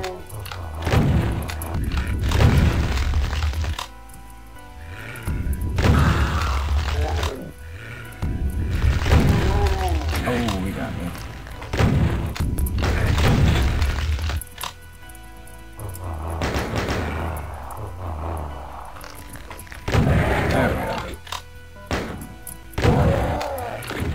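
Rocket blasts and heavy thuds burst out repeatedly in a Doom map, loud booming impacts arriving in uneven waves amid frantic game action with brief pauses between volleys.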